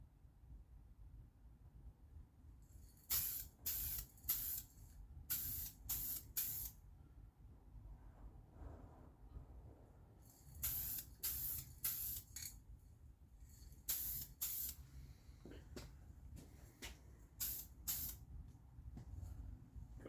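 A spray gun laying down a coat of paint on a Jeep YJ, in loud hissing bursts of varying length grouped into two runs, with quieter gaps of background noise between them.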